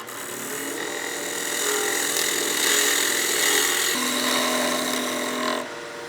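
A wood lathe turning a snowman oil candle blank, the gouge cutting away the last uneven spot to bring the piece round, making a continuous droning, rasping cut that swells and eases as the tool moves along the spinning wood.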